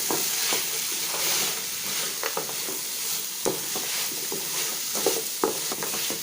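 Fried idli pieces tossed and stirred with onion and capsicum masala in a pan, a steady sizzle with repeated scraping and clinking of the spatula against the metal.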